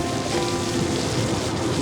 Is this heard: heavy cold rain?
yes